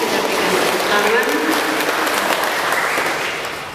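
Congregation applauding inside a church during a Sumba ethnic culture month service in Kupang, a steady dense clapping that holds for several seconds before tapering off.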